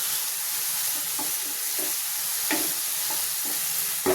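Garlic frying with onions in a pan while cooking a tengra fish curry, a continuous close hiss of sizzling oil with a few soft stirring knocks.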